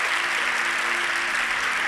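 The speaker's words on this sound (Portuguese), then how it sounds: "E aqueles que creem, aplaudam o Senhor com toda a sua força" A church congregation applauds during a sermon, a dense, steady wash of many hands clapping together, loud and unbroken throughout.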